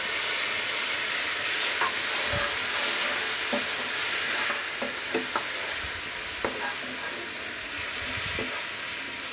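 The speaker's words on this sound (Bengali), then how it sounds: "আমি এখন জলে গুলে রাখা মশলাটা দিয়ে দেব।" Spice paste mixed in water sizzles steadily in a hot pan, with occasional scrapes and knocks of stirring breaking through the frying hiss.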